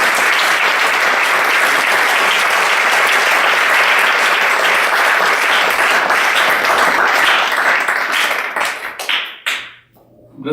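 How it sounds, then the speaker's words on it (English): A large audience applauds after a talk at a Sai Center in Chicago, with dense, sustained clapping that thins out and fades near the end before falling silent. "Please give a big round of applause."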